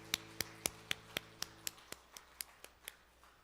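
A church congregation claps in unison at a Sunday worship service, about a dozen sharp, evenly spaced claps in a steady rhythm. A soft sustained organ-like tone sits underneath at first, then fades out.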